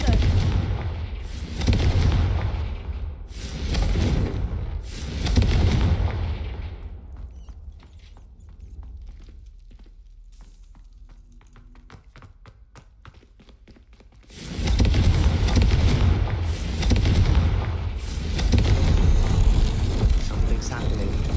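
Fire-spell explosions burst in a Hogwarts Legacy game, heavy booming blasts in spaced clusters, loud and near, with a quieter stretch of rumbling and crackling between volleys.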